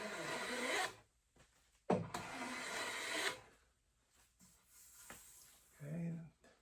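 A hand plane takes thin shavings off a convex wooden edge in a few quiet rasping strokes separated by pauses, with a voice speaking softly.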